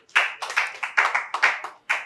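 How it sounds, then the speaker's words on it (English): Participants at a training session clap for themselves, a small group producing around a dozen distinct, close, sharp claps in an uneven rhythm, with no talk. "clap for yourselves."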